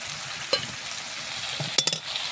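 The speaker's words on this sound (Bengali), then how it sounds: "মশলাটা ভালো করে আমি কষিয়ে নেব।" Ground spice paste of garlic, onion, dried red chilli, turmeric and salt fries in hot oil, a close sizzle broken by a few sharp stirring scrapes, with no voices.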